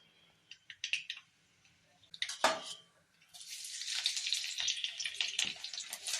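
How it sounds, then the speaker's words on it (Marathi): Mustard seeds hit hot oil in a pan: a few sparse pops and a single clank, then a dense, loud crackling and spattering that builds and runs steadily to the end, with no talking. "तेल तापले, आता आपण मोहरी टाकू"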